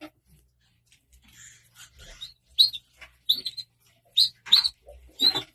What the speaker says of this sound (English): I love watching the birds at bath time